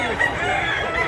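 A white chicken gives a loud, close, continuous call, clucking and crowing without a break for about a second.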